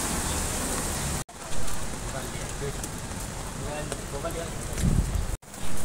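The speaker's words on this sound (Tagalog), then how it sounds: "Grabe ang ulan guys." Heavy rain pours continuously in a dense, loud hiss on a city street, with faint voices and a brief low thud near the end.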